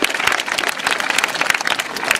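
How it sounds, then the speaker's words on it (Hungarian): Applause from an audience at a school year-end ceremony, a dense wash of many hands clapping steadily and fairly loud throughout. "A taps azért jár nekik."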